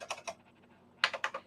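Keys clack on an old computer keyboard in two short bursts of quick taps, with a quiet pause between them, close and fairly faint with no talking.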